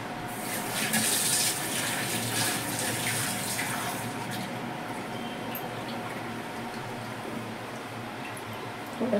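Water is poured steadily into a pot of gravy for dubuk vada, a continuous splashing pour that is loudest for the first few seconds and then settles into a softer, even trickle.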